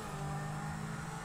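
A gold Zentorno supercar in the GTA V video game holds a steady, droning engine hum at low revs, a continuous tone with no pauses or breaks.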